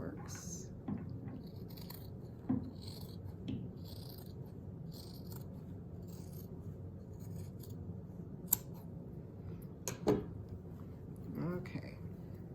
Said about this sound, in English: so now we're going to cut this